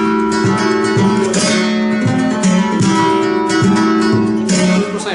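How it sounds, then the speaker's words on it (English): Flamenco guitar rhythm strumming with the fifth string muted: steady, bright strums repeat in a brisk pattern, loud and close, with no voice over them. "I see people playing rhythm and I don't hear the fifth string"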